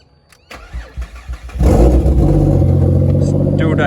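A turbocharged Ford Barra engine running on E85 with the dump pipe disconnected cranks over and fires, then settles into a loud, steady, close rumble; a voice is heard briefly before it starts.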